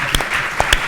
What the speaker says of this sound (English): So could I have a round of applause?